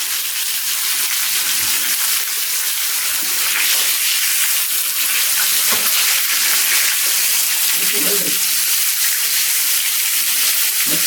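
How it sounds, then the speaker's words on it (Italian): Sardines a beccafico frying in oil, giving a steady, even sizzle and hiss that runs unbroken throughout, with faint small pops here and there. "Va bene, allora aspettiamo che si friggono."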